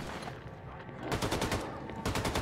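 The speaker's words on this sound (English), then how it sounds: "Okay, now we're shooting people." Gunfire in the shooter game Wolfenstein II: The New Colossus, a run of rapid, loud automatic bursts in two clusters with a brief lull between, layered over dense game ambience.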